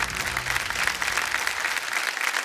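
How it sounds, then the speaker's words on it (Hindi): Studio audience applause on a televised quiz show, a steady wash of many hands clapping at moderate volume, easing off slightly toward the end. "तालियां बज जाएं इनके लिए।"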